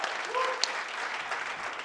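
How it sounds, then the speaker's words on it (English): A room full of people applauds at the inaugural Luminas event, steady broadband clapping holding at moderate level for about two seconds with no pause, plus one brief sharp accent partway through. "Big round of applause for Mahanas, everybody."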